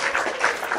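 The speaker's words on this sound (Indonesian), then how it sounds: "Berikan tepuk tangan." Short burst of crowd applause greeting a guest on an Indonesian football talk show, dense and fairly loud, with no voices over it.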